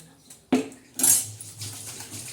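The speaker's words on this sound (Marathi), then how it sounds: "आता मैत्रिणी आपण ना झाकण ठेवणार आहे थोडं उकळण्यासाठी" A metal lid goes onto a pot of simmering mung and toor dal: two sharp clanks about half a second apart, then a faint rattle as it settles.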